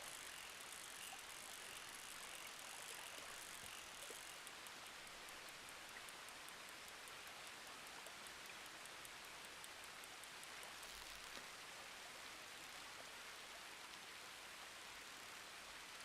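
Rain falls steadily in Red Dead Redemption 2, a soft, even hiss of drops pattering on surfaces that continues unchanged and quiet for the whole stretch, with no talking.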